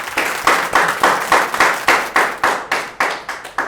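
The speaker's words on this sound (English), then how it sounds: "I think we should clap for JM." A crowd claps in a steady, rhythmic beat, about three claps per second, loud and close.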